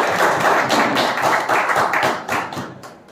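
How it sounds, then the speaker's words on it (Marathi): Crowd applause for the team owners at a village cricket auction in Lanja, Ratnagiri, a steady, loud burst of many hands clapping together that thins out and fades toward the end. "या संपूर्ण टीम साठी टीम मालकांसाठी एकदा जोरदार टाळ्या होऊन जाऊ"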